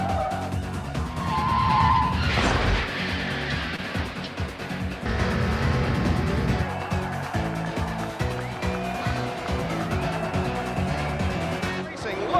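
Played-back recording of race cars running three wide on an oval through the tri-oval, with roaring engines, tyre squeals and skids up close. A commentator talks over the racing throughout.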